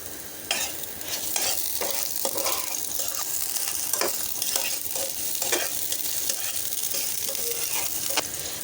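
Onion and green chili fry in oil in a pan with a constant loud sizzle, while a spatula stirs and scrapes against the metal in irregular clicks.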